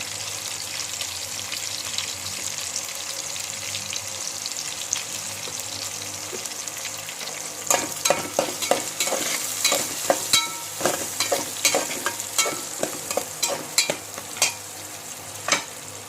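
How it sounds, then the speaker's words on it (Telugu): Chopped onion and green chillies sizzle in oil in a pot, a steady close hiss at first, then a run of sharp clinks and scrapes from stirring over the frying for the last half. "స్టవ్ మీద గిన్నె పెట్టి ఆయిల్ పోసి ఉల్లిపాయ పచ్చిమిరకాయ కోసేసేసాను."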